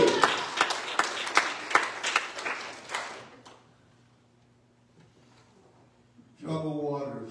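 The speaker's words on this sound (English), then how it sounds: "Will you clap your hands unto the Lord?" A church congregation claps hands during a sermon, a series of loud sharp claps that fade into near silence, followed by a voice speaking.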